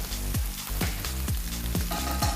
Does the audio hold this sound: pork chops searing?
yes